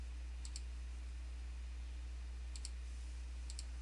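Computer mouse clicks while filling in a job classification form in cost-estimating software, a few short, sharp double clicks spaced apart over a steady low hum, no talking.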